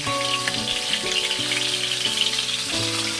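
Cauliflower pieces frying in oil in a kadai make a loud, close crackling sizzle, while background music with sustained tones plays over the short stretch and no one speaks.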